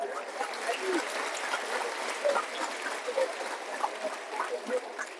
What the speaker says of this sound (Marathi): त्यांना टाळ्या कुठे द्यायचं ते कळतं